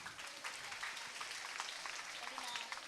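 An audience at a school annual day celebration applauds school toppers, a dense, steady wash of many hands clapping at moderate distance, heard faintly throughout without a break.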